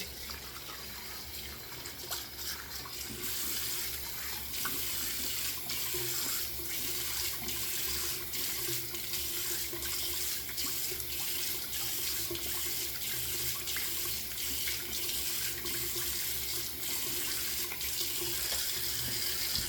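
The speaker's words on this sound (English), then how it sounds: "let me get some cold water and rinse this off real quick" Cold water runs from a tap into a sink in a steady, unbroken hiss and splash, close and moderately quiet, with no talking over it.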